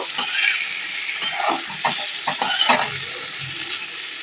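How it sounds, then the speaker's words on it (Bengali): Diced, boiled jackfruit and potato fry lightly together in a pan, with a constant sizzle broken by close scraping stirs and occasional light clinks of a utensil, with no speech. "আলু আর এঁচোড় একসাথে কিন্তু একটু হালকা করে ভেজে নেব।"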